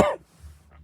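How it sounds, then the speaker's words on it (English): A single short cough, close and abrupt, followed by near silence and a faint breathy sound. "My voice has just gone funny because I just coughed"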